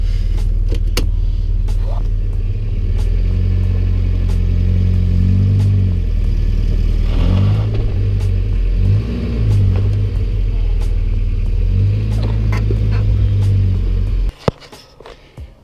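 A Toyota Celica T18, the last version with pop-up headlights, pulled out of a swampy spot, giving a steady close engine rumble with shifting low tones that rise and fall for about fourteen seconds before cutting off.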